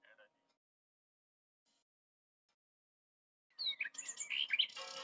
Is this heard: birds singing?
yes